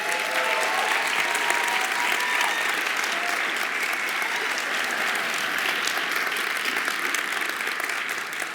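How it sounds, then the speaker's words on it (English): A crowd applauding after a talk, sustained even clapping close and loud throughout, easing slightly toward the end with a few voices buried beneath. "please give Diana a round of applause"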